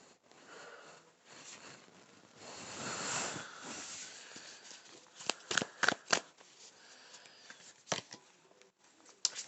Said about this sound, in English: We're going to get some oracle cards out and then I'll be done.